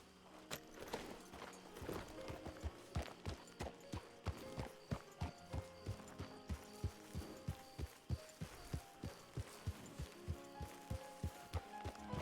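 Steady clip-clop of horse hooves in the RedM video game, a regular walking rhythm of distinct, close hoofbeats continuing throughout with faint background ambience and no talk.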